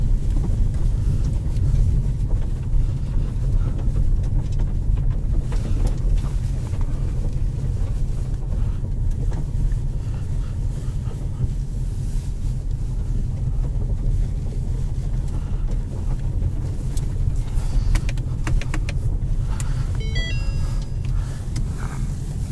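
A 2020 Ford Mustang GT Premium with Performance Package and automatic transmission drives in track mode, its engine a steady low drone under heavy wind and road noise from inside the cabin.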